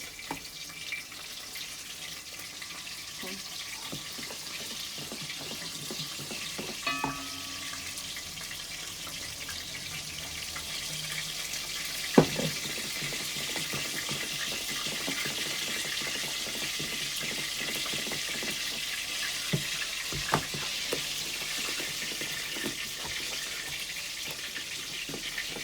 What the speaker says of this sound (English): what is that frying sound